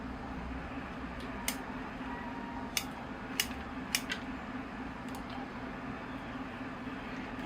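Sharp scissors snip Brazilian raintree bonsai roots in several crisp, separate cuts close by, over a low steady background hum.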